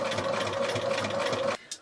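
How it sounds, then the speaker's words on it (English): A sewing machine runs steadily in straight stitch, sewing along the edge of the field fabric on a quilted postcard of a dry stone wall landscape. The whirring is close and continuous for about a second and a half, then stops abruptly. "Switch back to the straight stitch, and I'm going to stitch along the edge of that field."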